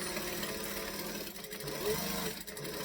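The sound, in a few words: sewing machine stitching a bag seam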